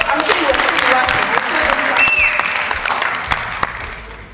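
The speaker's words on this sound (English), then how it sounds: "Okay, let's clap for him." An audience claps for a speaker at an event on youth opportunities in the AfCFTA, a full burst of applause that gradually thins and fades, with voices speaking over it.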